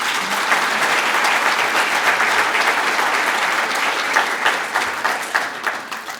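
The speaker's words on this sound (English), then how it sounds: "Another round of applause for them." A dinner crowd at a student of the year awards event gives a sustained round of dense, even applause for a scholarship family, loud and steady before thinning slightly toward the end.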